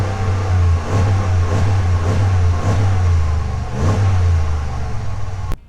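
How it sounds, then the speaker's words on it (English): A 2021 Ram 1500 Limited Night Edition pickup with a 5.7 V8 eTorque engine and dual exhaust idles with a deep burble, then revs repeatedly in several rising blips, loud and close. "Dual exhaust, which sounds pretty good."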